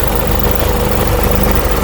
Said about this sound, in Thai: หัวใจหลักคือเครื่องยนต์ตัวนี้เครื่องสามพัน ดีเซล190 แรงม้า